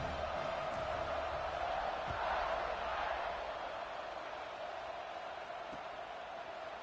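A stadium crowd in an NCAA football video game keeps up a steady, distant roar with broad cheering that swells briefly and then settles, while a commentator's voice is faintly present.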